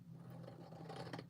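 Scissors cut through paper card to halve it into artist trading cards: a short, close scraping snip that ends in a sharper crisp bite as the blades close.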